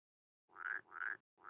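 A strawberry poison dart frog calling in three quick buzzy croaks, evenly spaced and close, with silence before the first.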